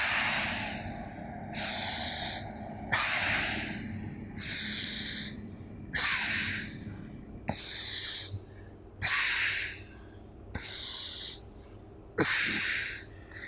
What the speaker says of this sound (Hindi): आपने नाक से ब्रीथ इन किया, साउंड आया, और नाक से ही ब्रीथ आउट किया